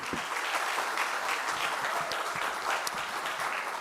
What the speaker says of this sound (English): Give our panel a round of applause, everybody.